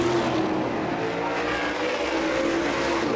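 Supermodified race cars roar around Shasta Speedway in a steady, loud, continuous engine drone of several cars at speed, heard from trackside with no talk.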